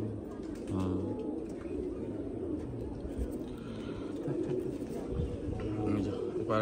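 A pigeon undergoing eye treatment coos in low, repeated murmurs close by, with handling noises and people talking in the background throughout.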